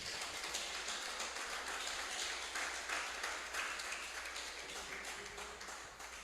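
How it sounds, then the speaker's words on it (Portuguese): A church congregation at a family worship service claps loudly and steadily together. The dense, even applause fills the room without pause and fades a little near the end. "Aplauda Jesus bem forte"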